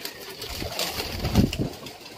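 Pigeons cooing, with a female pigeon among them, give a short burst of soft, low coos close by against quiet background noise and a faint engine-like hum.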